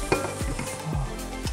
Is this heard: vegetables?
yes